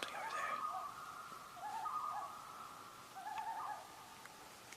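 Faint birds calling from somewhere out in the woods: a few soft hooting, owl-like phrases repeating in three spaced bursts, far off and quiet against a hushed background.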